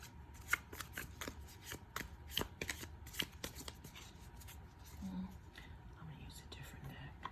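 Tarot cards are shuffled and drawn in a quiet room, giving a run of soft riffling flicks and sharp card snaps at an uneven rhythm, close and fairly faint, with low whispery voice traces underneath.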